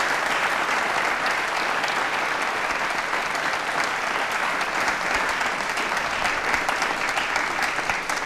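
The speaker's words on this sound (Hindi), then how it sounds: "तालियां बजाइए दूरदर्शन के लिए।" A student audience at an elections quiz show at Compucom Institute of Technology and Management applauds in a dense, continuous wash of clapping. It stays loud and steady for over eight seconds with no break.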